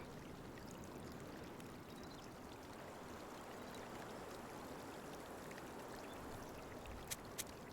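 In Chants of Sennaar, water runs in a constant, soft rush throughout, an even trickling flow with a couple of faint clicks near the end.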